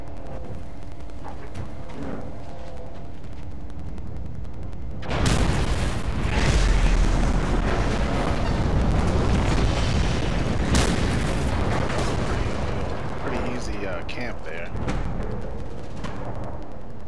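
A large explosion in the post-apocalyptic vehicle combat game Mad Max bursts out loud after quiet ambience, then rumbles and crackles with debris for several seconds before fading back to low background.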